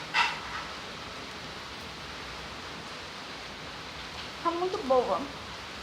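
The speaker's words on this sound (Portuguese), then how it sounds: "porque tá chovendo" Steady rain falling outdoors, a continuous even hiss heard throughout, with brief voices talking near the start and near the end.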